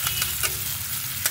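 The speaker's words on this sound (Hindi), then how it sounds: "यहाँ पर मेरा डाल देते हैं ओनियन डाल के इसको अच्छे से ओनियन को फ्राई कर लेती हूँ थोड़ा सा" Onions frying in hot oil with three bay leaves for a home-style tarka dal, a steady close sizzle with a few louder stirring scrapes, no talking.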